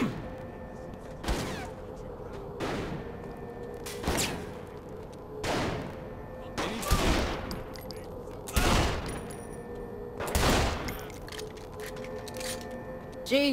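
Gunfire in a gunfight from Saints Row: The Third Remastered, a guard armory raid: about eight sharp, loud shots land at irregular intervals over steady low game ambience.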